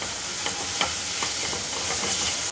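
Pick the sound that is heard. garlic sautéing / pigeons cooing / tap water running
garlic sautéing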